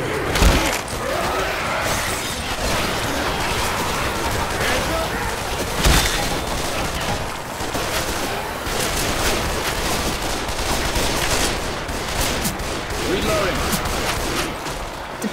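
Explosive railgun rounds fire in Left 4 Dead 2 amid a dense, continuous barrage of game gunfire and impacts, with a sharp blast near the six-second mark and steady loud battle noise throughout.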